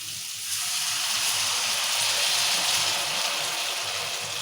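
Water poured into a hot pan of tempering with onions, tomatoes and chillies for wheat rava upma, a loud, steady broadband hiss that swells after the first half second and holds, with no talking.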